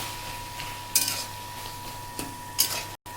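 Taro leaves and potatoes are stirred in a pan with a spoon, giving a few distinct scraping clinks of metal against the pan over a low steady cooking hiss.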